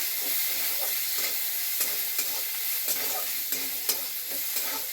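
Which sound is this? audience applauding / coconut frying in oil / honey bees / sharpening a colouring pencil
coconut frying in oil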